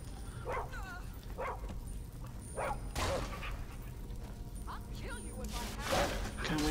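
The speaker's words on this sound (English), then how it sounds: "Can we just kill the freaking dog?" A dog in the video game Skyrim barks and yips in short bursts, several times across the scene over constant background game noise, with a few clanging crashes mixed in.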